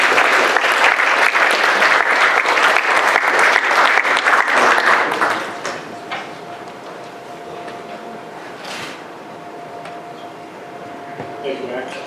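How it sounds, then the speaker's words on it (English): Loud, dense applause from a crowd at an airsoft meetup at IWA Outdoor Classics greets a speaker for about five seconds, then drops to a lower room murmur with a faint steady hum. "So please give a round of applause to Mr. Huang."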